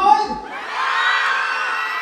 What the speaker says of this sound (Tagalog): pwede ko marinig ang sigawan ng mga taga-CMU